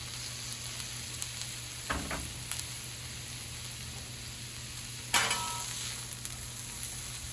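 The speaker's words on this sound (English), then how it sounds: "So let's get this food on the griddle. All right, let's start off with the green peppers." Green peppers frying on a 36-inch Blackstone griddle give a steady, low sizzle throughout, with a few brief scraping clatters of a spatula and one sharper burst of sizzle near the end.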